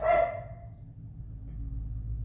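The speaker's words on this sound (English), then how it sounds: "I don't know why my dog was barking so much." A dog gives one loud, close bark at the start, followed by a low steady background hum.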